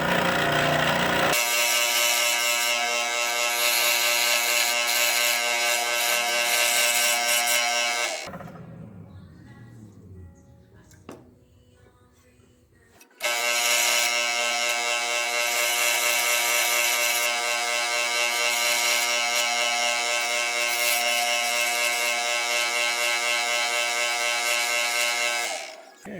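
A fine-toothed saw cuts an opening for an LED switch box, giving a loud, steady, buzzing rasp, close up, that stops for several seconds of quiet handling noises and then resumes at the same pace.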